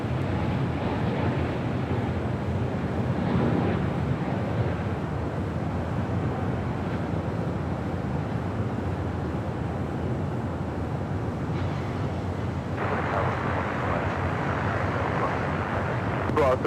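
An airliner takes off from runway 25 right at Los Angeles International Airport, a broad, roaring engine rush that holds steady throughout, mixed with wind buffeting the microphone and radio chatter from air traffic control.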